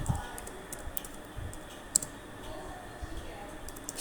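Scattered soft keyboard clicks as a campaign name is typed on a computer keyboard, faint and irregular beneath a low room hum.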